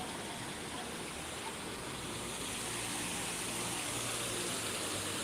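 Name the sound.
water sprinkling in an Epcot fountain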